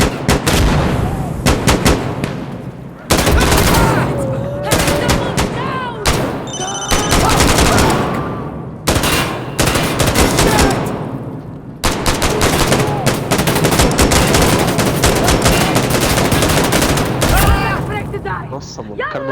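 Gunfire fills a firefight in the video game Insurgency: Sandstorm, with dense bursts of automatic fire and heavy single shots rattling almost nonstop. Brief lulls break the shooting, and voices come through in places.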